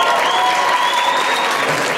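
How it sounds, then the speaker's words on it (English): An audience at a Lions club meeting claps for a woman who baked a cake, a dense, even round of applause with a few tonal whoops or whistles running through it. "Let's give Audrey a great big round of applause."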